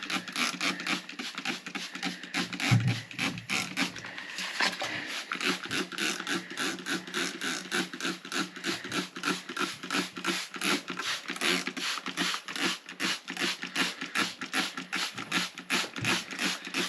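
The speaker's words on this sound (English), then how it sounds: "I'm just gonna spray them with water, wet them down" A hand spray bottle wetting down seed starting trays filled with vermiculite indoors, giving a steady run of close, rapid hissing spritzes with a rhythmic patter and no talk.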